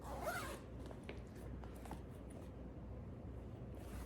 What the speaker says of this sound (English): The little zipper pull, come on, be nice.